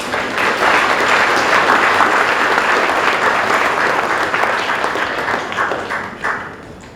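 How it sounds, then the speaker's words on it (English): A school presentation day audience claps for the student representative council, a steady, full round of applause sustained throughout before easing slightly at the end. "So another round of applause please for the SRC."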